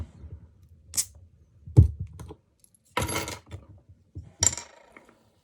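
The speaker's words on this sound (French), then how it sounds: "On va la décapsuler. J'ai le petit décapsuleur des Limos" A metal bottle opener works the cap off a bottle of Camden Pale Ale, giving scattered clinks and scrapes, then a brief hiss and fizz as the shaken beer foams, close and without speech.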